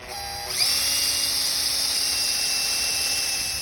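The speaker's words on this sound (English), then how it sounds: "Now we can drill through the frame" A power drill whines as it bites into a metal canopy tent frame, rising sharply in pitch and then holding a loud, steady high-pitched grind close by.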